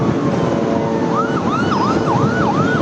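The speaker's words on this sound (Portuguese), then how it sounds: "Agora uma sirene ao fundo." An emergency siren wails in repeating rising-and-falling sweeps during bombardments in the Gaza conflict, somewhat distant, over a constant background rumble.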